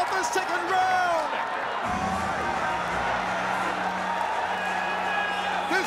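Arena crowd in Yangon roaring and cheering through a world title MMA bout between Aung La N Sang and Ken Hasegawa, a dense, steady wash of voices and whoops with a thud partway through.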